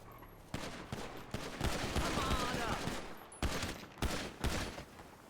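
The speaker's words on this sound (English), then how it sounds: "First shots fired in Little, so we got a shit ton of locals shooting at us" Rapid bursts of gunfire from locals shooting in a police roleplay video game, with several loud volleys and short gaps between them, fairly close and steady throughout.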